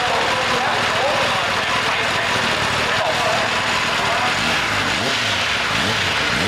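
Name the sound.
Kawasaki Ninja ZX-10R motorcycle exhaust note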